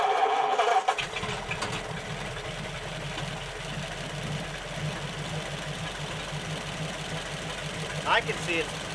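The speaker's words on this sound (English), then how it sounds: "I'm gonna fire the motor up" An early Ford flathead engine idles after starting, a steady low rumbling drone with a slightly knocking pulse, close and continuous, with a brief rise near the end.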